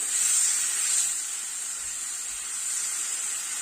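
Mashed banana cooks in ghee on a lowered flame for banana paniyaram, a soft steady hissing sizzle that runs on evenly, fading slightly midway, with no voices.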